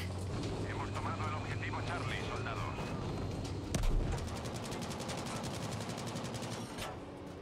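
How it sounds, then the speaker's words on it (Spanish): Distant gunfire from another player in Battlefield V, a rapid rattling burst in the second half with one heavier thump, under game ambience and voices talking. "Hay otro por ahí disparando, no le veo."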